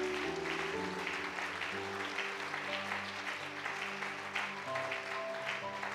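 A church congregation claps in steady, continuous applause that sounds moderately distant, while sustained organ or keyboard tones play underneath.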